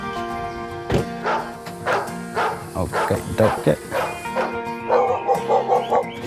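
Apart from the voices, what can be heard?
elderly dog Zenki barking in a rowdy welcome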